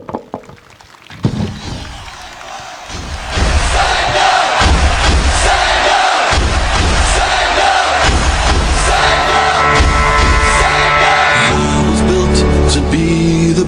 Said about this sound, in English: let us now welcome our young sporty Agnelites with a huge round of applause